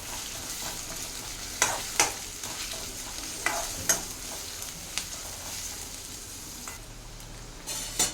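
Ingredients for a Telugu stuffed-brinjal curry fry in a pan under a steady sizzle, while a spoon scrapes and stirs in sharp, irregular strokes. There is no talking.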